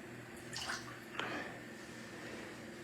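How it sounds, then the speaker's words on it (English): A watercolor brush swished and rinsed in a container of water, giving a couple of soft, close splashing and dripping sounds at low volume. "let's rinse that brush"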